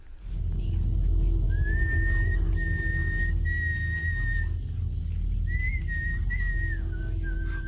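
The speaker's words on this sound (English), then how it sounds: "the character whistles at the Northern Lights" Someone whistles a few sustained, wavering notes in two phrases over a steady low rumbling background.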